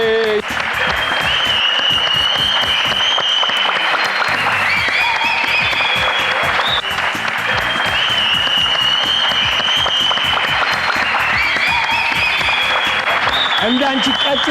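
Warm applause rises for children receiving prizes on a television quiz program. The clapping runs throughout, mixed with talk and bright music stings, close and fairly loud.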